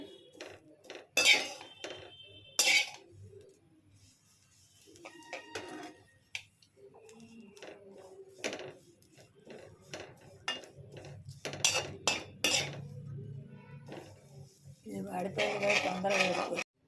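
Drumstick leaves and curry leaves dry-roasting in a pan, with irregular metallic clinks and scrapes from a utensil against the pan, loud at moments and quieter between, with brief voice in the background.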